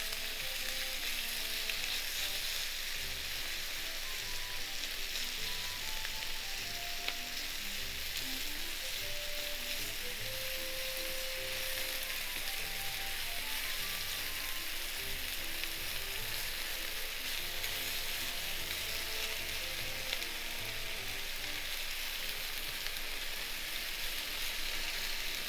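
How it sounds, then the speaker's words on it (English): Steady, continuous sizzling of chicken frying in vegetable oil in a hot pan, a constant crackle throughout with faint tonal sounds in the background and no talking. "Spread them all over the frying pan."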